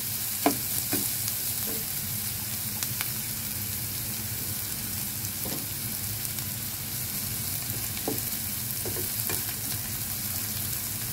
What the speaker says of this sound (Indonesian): Sambil ditumis-tumis ya guys